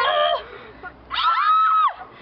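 A person lets out two high-pitched screams, a short cry and then a longer, louder wail, close by with no other sounds.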